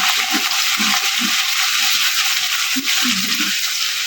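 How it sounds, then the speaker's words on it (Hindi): Two spoons of ginger garlic paste fry loudly with browned onions for a potato and pea curry, giving a dense, continuous sizzle with soft stirring scrapes underneath. "अब हम अदरक लहसुन का पेस्ट डालेंगे 2 चम्मच। अब इसे हल्का सा ब्राउन करेंगे।"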